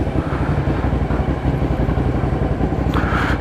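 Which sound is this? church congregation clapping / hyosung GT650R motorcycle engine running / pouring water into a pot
hyosung GT650R motorcycle engine running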